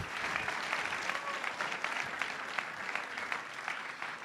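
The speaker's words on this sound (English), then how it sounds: "Give a round of applause for 10 years of the Entrepreneurship Avenue, guys." An audience applauds at a kickoff event marking the 10th anniversary of Entrepreneurship Avenue, producing steady, dense clapping that holds at an even level for several seconds, with faint cheering mixed in.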